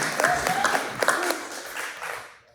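An audience at a community housing meeting clapping briefly, a short scattered round of applause with a voice over it, fading out after a couple of seconds.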